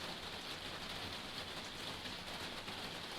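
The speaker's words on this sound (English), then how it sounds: "let the rain wash over you" Steady rain pours down in a dense, even hiss with no break, a close and continuous wash of drops on surfaces, with no voices.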